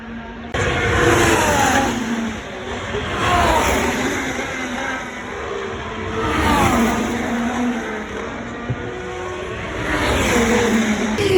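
Race cars running laps on the circuit at the 2024 Australian Grand Prix, engines rising and falling in repeated passes, loud and sustained with a crowd-like wash underneath and no talking.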